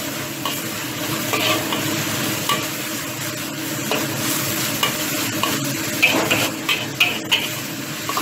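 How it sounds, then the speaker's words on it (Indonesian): A spice paste stir-fried in a pan, with a steady sizzle and frequent scraping and clinking of the utensil against the pan, close and loud. "Kita tumis-tumis bumbunya sampai wangi, sampai harum ya."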